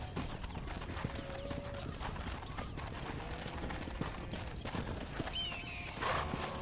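Horse hooves clip-clop steadily in Red Dead Redemption over a continuous game ambience, with a faint whinny near the end.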